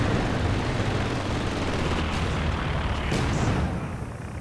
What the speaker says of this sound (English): Looks like some more bombs being brought in on the centre.